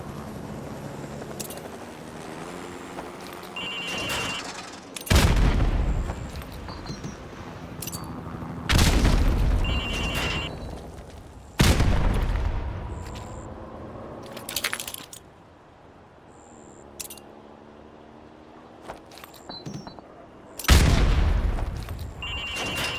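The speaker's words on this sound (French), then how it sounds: "Maintenant, lance une grenade dans les fenêtres 2, 3 et 4." Grenade explosions in Call of Duty Modern Warfare Remastered: four loud, heavy booms spaced several seconds apart, each decaying with a ringing tail, with softer game tones and clinks in between.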